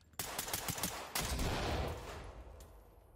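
Gunfire in a Crack House simulator video game: a sharp rapid string of shots, then a heavy blast-like burst that decays into a rumbling tail, fairly faint overall.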